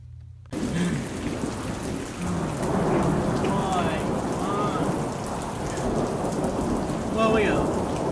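Heavy thunderstorm with steady rain pouring and low rumbling thunder rolling through, loud and continuous after a brief quiet start, with faint warning tones in the background.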